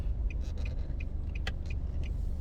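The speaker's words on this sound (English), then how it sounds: "Lots of traffic." Road traffic on Red Hills Road in Kingston, Jamaica, heard from inside a moving car as a steady low engine and road rumble, with faint repeated high chirps over it; no talking.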